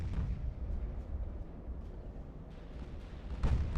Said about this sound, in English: Where are those 20-inch guns coming from?